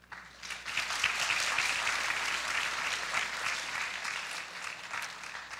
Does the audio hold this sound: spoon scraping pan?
no